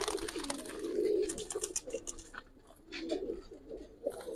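Giribaz pigeons coo in soft, repeated low murmurs at close range, the rounded calls swelling and fading over several seconds with no talking.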